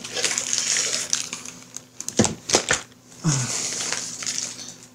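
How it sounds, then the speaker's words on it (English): Plastic bags holding board game miniatures from Dungeon Saga are handled and crinkled close by, with sharp rustling crackles and a few louder crunching bursts mixed with brief pauses. "the plastic bags with a few minis in."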